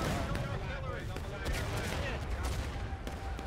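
Continuous gunfire and artillery in the Ghosts of Antietam battle game, a dense crackle of musket volleys with heavier booms, loud and unbroken, under a voice.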